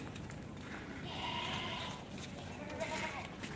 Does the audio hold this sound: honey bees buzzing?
no